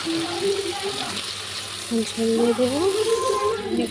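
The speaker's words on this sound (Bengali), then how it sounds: "নাড়াচাড়া করে নিয়ে এখন ঝোল দিয়ে দেবো।" Broth pours into a pan of Bengali fish curry (katla fish with potato and poppy seed), a continuous close liquid gush and sizzle, with background voices over it.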